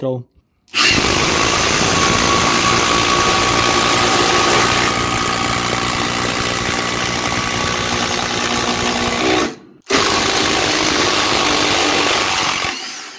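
A Milwaukee M18 FID2 cordless impact driver drives an 8x300 mm bolt, a loud close hammering whine lasting several seconds, a brief pause, then another run.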